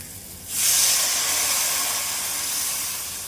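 Water poured into a pan of frying bitter gourd and potato sets off a sudden loud sizzling hiss that bursts up and then settles into a steady, slowly fading spatter with no talking.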